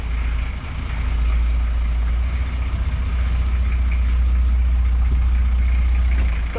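A Land Cruiser engine runs steadily nearby, a deep constant idle rumble holding at an even level throughout with no voices.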